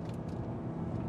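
A BMW E60 M5 engine drones steadily as the car accelerates along a twisty road, a short, moderately loud, even burst of engine noise.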